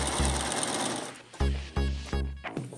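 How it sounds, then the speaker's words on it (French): A sewing machine that has sat unused for five years stitches the side hem of a beginner's costume, running in short bursts with a steady mechanical chatter, close and clear. "Donc j'ai démarré la couture de l'ourlet latéral."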